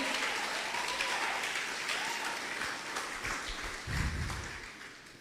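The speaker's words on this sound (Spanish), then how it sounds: "El que lo crea, dele un aplauso fuerte." A church congregation applauds in a steady, moderately distant wash of clapping that fades slightly toward the end, with a brief low thump near the close.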